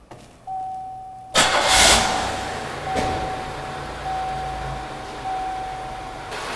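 Someone cranks a 1998 Buick engine with its accessory belts removed. It catches and settles into a steady idle, with a faint whine underneath. The sound is moderately close and nobody speaks.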